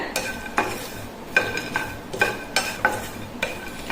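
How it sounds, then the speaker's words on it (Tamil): Dry granular scraping and rattling of pre-roasted peanuts in a pan, recurring about every second as a spatula stirs, with a faint sizzle underneath; close and moderately loud, no voices. "இந்த வேர்க்கடலையை ஏற்கனவே வறுத்தது தான் இருந்தாலும் நம்ம கொஞ்சம் சூடு பண்ணிக்கலாம்"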